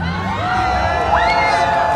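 Street performance crowd in Times Square, New York, a dense wash of cheering and shouting voices with whoops rising over a steady, loud mass of people, no distinct claps standing out.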